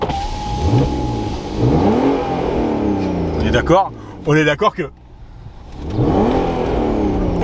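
A 2006 Audi A3 3.2 V6 Quattro engine revs loudly in bursts in neutral, the roar rising and falling near the listener, with someone talking over it at the start and end.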